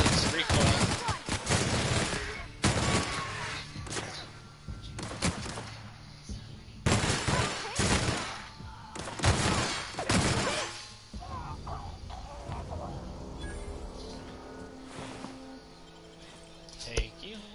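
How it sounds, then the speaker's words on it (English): A light machine gun in the video game The Outer Worlds fires in loud, rapid bursts that crackle and slam in clusters, then gives way to lower mechanical clatter and quieter rumbling. "Get out the LMG. Oh, we are in business. Oh, this is recoil."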